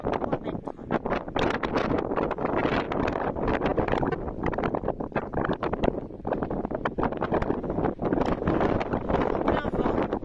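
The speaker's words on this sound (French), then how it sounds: "Plein vent." Strong, steady wind buffets the microphone on an exposed mountain ridge at about 1,750 metres, a loud continuous roar and rumble with no break throughout.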